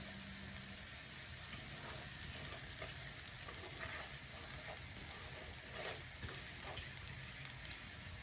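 A pitha mixture with date jaggery is stirred in a pan, continuous sizzling and scraping with light clicks, steady and near, no voices.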